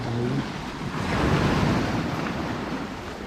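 Rushing water noise, like surf or a stream, forms a loud, continuous wash that swells slightly midway, with a faint hum at the start and no talk.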